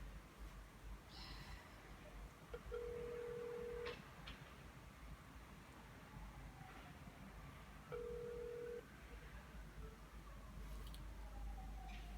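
Phone call ringing out, two long electronic ring tones several seconds apart, faint and distant over quiet room noise, with no talk.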